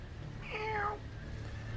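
Single cat meow in a Game of Thrones video game, a clear rising-then-falling call of about half a second over a quiet low ambient hum.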